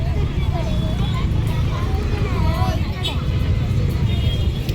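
Ride in an auto rickshaw through Mumbai traffic at night, with a steady rumble of engine and road noise throughout, voices talking over it and faint tones of other vehicles around.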